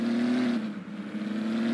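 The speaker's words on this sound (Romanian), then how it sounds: "Fuge, fuge într-adevăr mașinuța, ce să-i faci? Are cai, are motor mare, fuge" A powerful car with a big engine in Farming Simulator 19, accelerating in a loud, steady drone that sags and then climbs again, close and with no talk over it.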